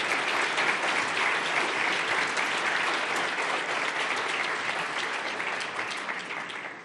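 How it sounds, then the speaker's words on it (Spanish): Sustained applause from a large audience at a speech by Argentine President Javier Milei at Fundación Faro, a dense, even wash of clapping that slowly tapers toward the end, with no voices. "Aplauso para el Coloso."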